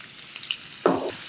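Cumin, chopped garlic and asafoetida tempering in hot oil in a pan, a faint low sizzle that flares into a brief louder crackle near the end, with no talk.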